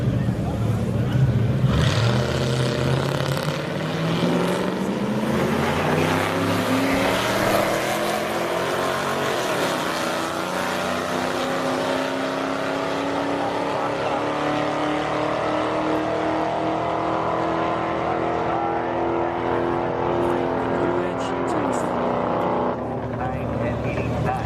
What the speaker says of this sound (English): we got the Mustang going up against the Mustang. It's the new Edge against the